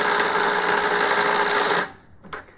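A Warrior impact driver sinking a 0.36-inch lag bolt without a pilot hole, heard as a loud, close, steady high-pitched whir that cuts off after about two seconds and is followed by a faint clunk.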